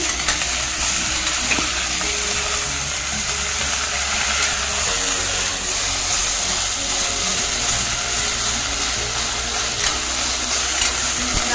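Fenugreek leaves fry in a pan for sambar, a steady, loud sizzle that holds evenly throughout with occasional soft stirring scrapes and no talking.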